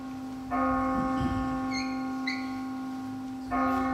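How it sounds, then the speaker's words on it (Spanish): A church bell strikes at midnight, two slow resonant tolls about three seconds apart with a long humming ring between them, heard at moderate distance with no voices. "Las 12 sonaron en el reloj del postigo."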